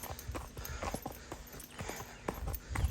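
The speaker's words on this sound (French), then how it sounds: "il y a un cheval qui trotte dans son entrée" A horse trots on a hard surface at a holiday stay with ponies, its hooves clip-clopping in a steady, fairly close rhythm through the clip with no talk.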